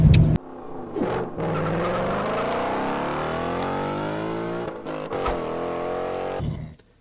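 Mazda Miata driving on the road, engine note rising and falling smoothly through the gears, loud and close inside the car with brief rushes of wind noise at the start and end.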